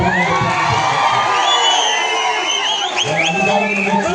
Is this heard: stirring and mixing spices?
no